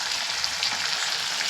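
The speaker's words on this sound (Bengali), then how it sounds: "আমার সবজিটা চিকেনটা ভালো করে ভাজা হয়ে গেছে।" Spiced chicken pieces and vegetables fry in a pan for chicken soup, giving a steady close bright sizzle with faint stirring and no speech.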